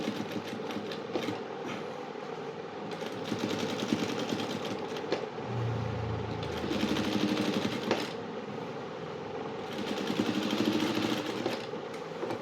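Domestic sewing machine stitching two layers of fabric at a tailoring lesson, a steady close mechanical whir that runs continuously with slight surges in speed, no voices over it.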